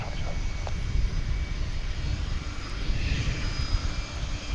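A Polar DHL cargo plane moves at DFW International Airport, heard as a steady, fairly distant broadband engine roar that swells slightly and stays constant, with no talk.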